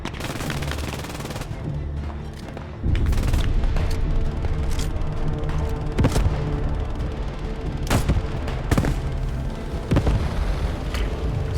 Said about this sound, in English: Machine gun in that building, top floor, right window.